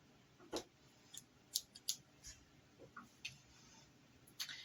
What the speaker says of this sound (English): So I'm going to cut a little piece of yarn.